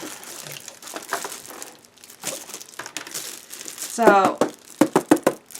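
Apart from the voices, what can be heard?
opening a mail package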